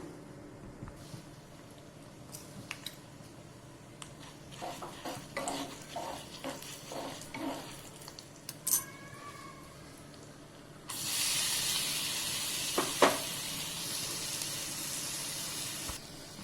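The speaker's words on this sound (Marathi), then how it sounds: "छान खमंग फोडणी तयार झाली आहे" Tempering of turmeric, ground ginger-garlic and chillies sizzles for vada pav, starting with faint scattered stirring taps, then a loud, steady hissing sizzle that swells and holds close for the last several seconds.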